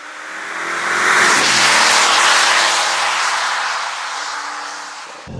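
An Audi RS7 Performance engine revs hard and roars loudly, holding a strong throaty tone before easing off slightly toward the end.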